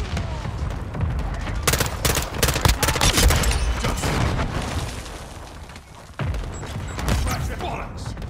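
Rapid gunfire from a Broadside shotgun in Call of Duty Modern Warfare, dense bursts of shots with explosions and mechanical game sounds, loud and continuous with a short lull near the end.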